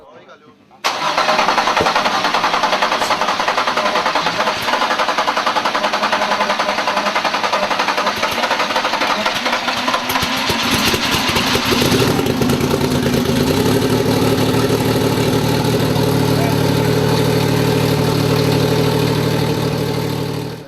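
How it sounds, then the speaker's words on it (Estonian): A drag racing car engine cranks and fires on a test start, then runs loud and steady with a rough, buzzing idle close by, its tone dropping and settling partway through as the revs ease. "Peagi sai ka mootor komplekteeritud ja võis asuda proovi käivitamisega tegelema."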